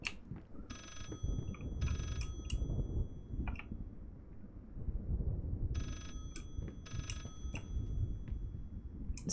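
In the video game Layers of Fear, an old-style telephone bell rings in two bursts of repeated trills, separated by a pause. The ringing carries over a low, rumbling ambient background.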